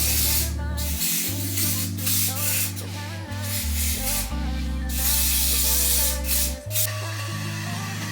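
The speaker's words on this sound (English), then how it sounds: "we are gonna go in with the Wonder Bond ponytail freeze spray" Several short hissing spray bursts from an aerosol ponytail freeze hair spray can, heard over steady background music.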